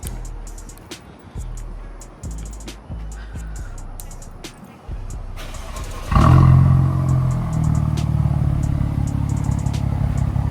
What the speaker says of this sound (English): I'll do a little remote start for you guys